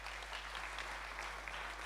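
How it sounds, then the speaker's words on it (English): Steady applause from a school prizegiving audience at Upper Hutt College, a continuous even clapping from many hands throughout. "I think we'll give a round of applause after each."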